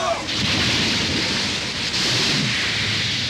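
A storm at sea with heavy rain and rolling thunder: a dense, constant hiss of rainfall over low rumbling swells of thunder, loud and close, with no break across the few seconds.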